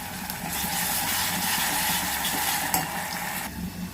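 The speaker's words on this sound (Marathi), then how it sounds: "कांदा छान आपल्याला परतून घ्यायचा आहे" Onions sautéing in a pan for an Agri-style mutton curry give a steady, close sizzle with continuous stirring and a brief scrape near the end.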